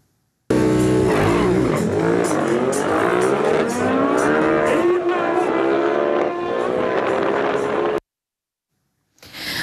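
Racing motorcycles at the Odessa season opening roar past close by, a loud engine whine sweeping up and down in pitch as they accelerate and shift, then cutting off abruptly before a brief return.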